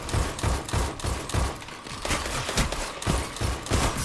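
A new scout rifle firing in Destiny during Season of Dawn, with loud, rapid shots that keep going for several seconds in a dense, steady run of gunfire.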